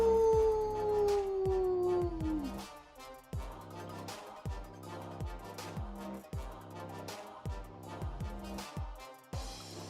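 A single long sustained wolf howl for Red Wolf in the card game Marvel SNAP, rising then sliding downward, followed by rhythmic thumping percussive music with no talking.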